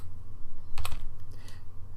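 Computer keyboard keys tapped in a short quick burst of clicks near the middle, close and crisp over a low steady background hum, with quiet moments before and after.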